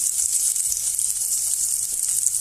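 Garlic sautéing in a hot pan for a native chicken kaldereta, giving a steady, close hiss of sizzling oil with faint scraping underneath and no talk.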